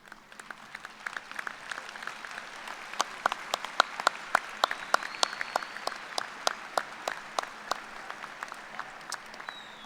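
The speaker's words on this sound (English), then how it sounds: "I ask that you, our graduates, please stand and applaud their contributions to your success." Graduates at a spring business administration commencement ceremony applaud in a large hall, with scattered, fairly distant claps building into steady applause that continues for about ten seconds.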